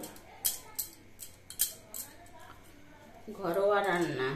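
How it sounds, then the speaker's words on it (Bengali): A knife cuts potato on a board in a home kitchen, several sharp separate chops in the first half, followed by a person talking. "আমরা এখানে আলুটা এখন কেটে নিচ্ছি"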